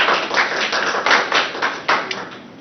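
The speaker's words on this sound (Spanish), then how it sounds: "Así que la recibimos con un fuerte aplauso." An audience welcomes a speaker at a medical talk on neuroimaging with a short burst of moderate clapping, a fairly close and steady patter of hands with no voices over it.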